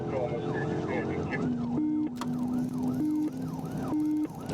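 A police car siren wails nearby in repeated rising and falling sweeps, loud and persistent, with a second tone switching in partway through.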